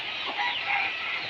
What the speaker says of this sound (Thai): โหไก่หลายเนาะ